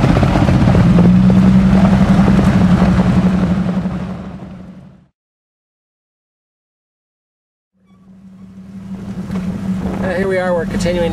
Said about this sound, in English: we're going to keep going down some of the dirt trails here in Al's 1997 Jeep